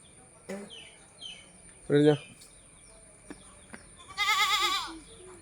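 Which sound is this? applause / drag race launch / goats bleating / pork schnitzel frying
goats bleating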